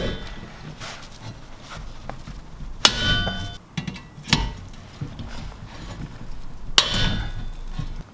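Sharp metallic hammer strikes ring out while rivets are knocked through a small plate on a Ford Sierra Sapphire RS Cosworth fuel pump cradle, three loud isolated clangs spaced over a few seconds with quieter handling noises between.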